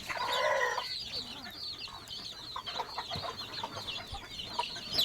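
A desi fighter rooster at a poultry farm clucks in a rapid, repeated chatter over a quiet farm background, starting with a short louder call.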